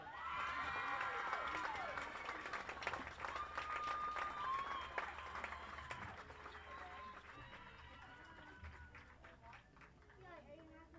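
Crowd applause and cheering fill the stands at a high school homecoming football game, dense sustained clapping with scattered shouts, loud at first and slowly thinning, while an announcer's voice carries over it.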